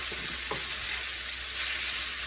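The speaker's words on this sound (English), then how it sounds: "So I'm just going to see if I can give this a little stir" Shrimp and chicken lo mein noodles frying in a pan while being stirred, giving a steady close sizzle with a couple of soft scraping stir sounds and no talking.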